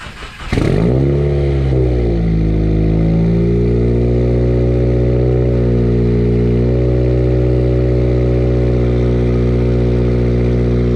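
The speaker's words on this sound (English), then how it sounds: "it has been like 2 weeks since this car is turned on, so we'll see if it turns over right away" A car that had sat unused for two weeks cranks briefly, catches, and settles into a loud, steady close-up engine drone with a slight rev rising near the start, running continuously without talk.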